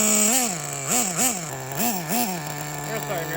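A Losi XXXNT nitro RC engine runs with a high, buzzy whine that rises and falls through a series of throttle blips over a steady idle, loud and close, with no talk.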